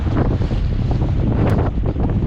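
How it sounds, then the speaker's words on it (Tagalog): Strong wind buffets the microphone in a continuous loud, rumbling roar with gusty fluctuations throughout. "malakas yung hangin"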